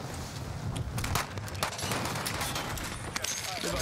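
Video game gunfire, distant and dense, crackling as a steady wash of overlapping shots and noise with a few sharper pops near the end.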